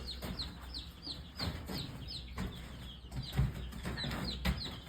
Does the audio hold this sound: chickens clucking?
yes